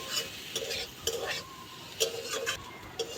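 A spatula repeatedly scrapes and pushes scrambled egg and bread pieces around a hot pan, producing rhythmic scratching strokes over a light sizzle, close and fairly quiet.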